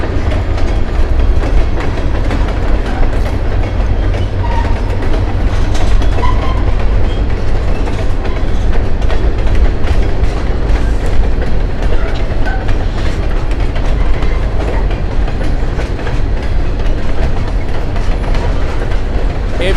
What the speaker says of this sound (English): It is an N&W rebuilt locomotive in 2007.